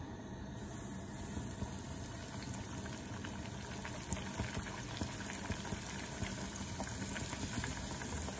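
Dough buns frying in hot oil in a pan make a steady, close sizzle and bubbling that runs unbroken, with faint crackles and no voices.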